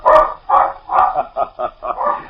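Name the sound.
black and white water spaniel barking on the beach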